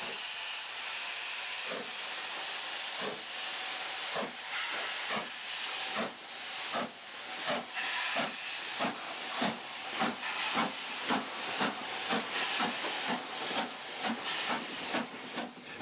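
LMS Stanier Pacific steam locomotive City of Lancaster climbs Camden Bank out of Euston, its exhaust beats starting slowly through a hissing wash of steam, then quickening into a strong, steady rhythmic chuffing.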